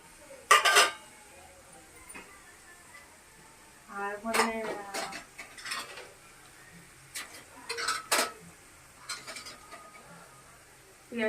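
A lid goes onto a frying pan holding fried onion and potato, giving sharp metallic clinks and clatters in short bursts close by. A voice talks briefly in between in a quiet kitchen.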